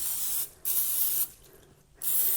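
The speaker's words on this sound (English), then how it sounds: "we're going to spray the fish on all sides" Nonstick cooking spray from an aerosol can misted over fish fillets in a kitchen: two steady hissing bursts with a short pause between, close and fairly loud.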